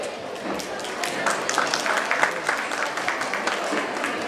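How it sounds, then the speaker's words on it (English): A school audience gives a steady round of applause after a secondary students' skit performance. The clapping is dense and continuous, rising slightly midway, with some voices mixed in. "A huge round of applause for the citizens."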